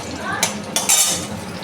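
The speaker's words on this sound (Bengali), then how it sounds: "তারপরে আমি দিচ্ছি এখন ফুলকপিটা হালকা করে ভাজবো।" Cauliflower florets go into a pan of melted butter and white oil and are lightly fried and stirred, with a few sharp utensil clinks and clatters over a steady low background.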